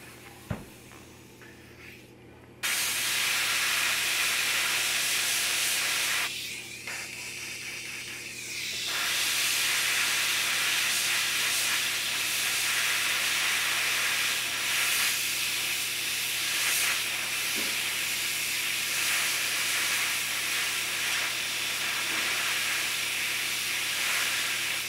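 An airbrush sprays gray paint onto a quarter-scale Aquaman figure, giving a steady close hiss that runs almost without a break, with one short quieter pause partway through.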